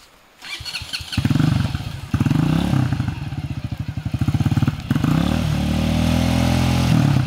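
A motorcycle on a dirt trail sputters to life and is revved hard and repeatedly, loud and close, its engine rising and falling in bursts of throttle.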